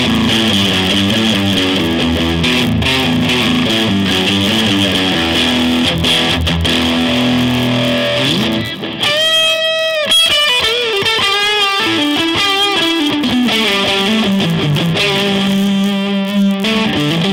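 A Squier Affinity Strat with single-coil pickups plays through an overdrive pedal: loud, continuous distorted chords and sustained notes over a steady background hiss, with no talking.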